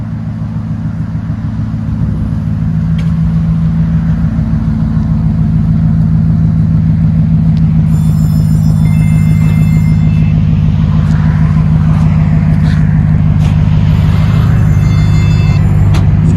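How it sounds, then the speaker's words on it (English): A Dodge Ram with a 5.7 HEMI V8 and Flowmaster Flow FX exhaust holds a loud, steady deep rumble that swells over the first couple of seconds and stays strong at close range, with harmonic engine drone and no talking. "Sound decibels, go ahead. About 104, 105. Flow FX never disappoints."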